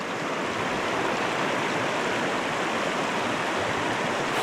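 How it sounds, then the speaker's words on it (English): Steady, close rush of a creek's flowing water, a constant broadband babble with no pauses and no voices over it. "that's a pretty creek"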